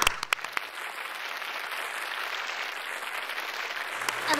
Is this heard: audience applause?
yes